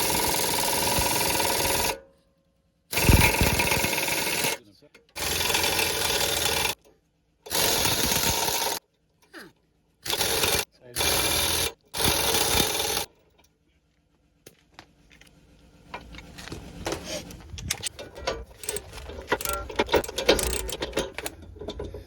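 Air impact gun spinning off rear brake caliper bolts on a 2019 Ram 1500 pickup, several sharp loud bursts of rapid hammering separated by short silences, then quieter clanks and ratchety mechanical handling noises.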